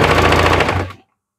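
A sewing machine stitching a layer of a three-layer frock, a loud close continuous rapid needle rattle with a low motor hum underneath, running for about a second before stopping sharply into silence.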